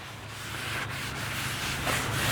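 Steady rubbing and wiping of oil across the steel top of a Camp Chef Gridiron 36 griddle being seasoned, a continuous close scrubbing swish that builds slightly in loudness, with no talking.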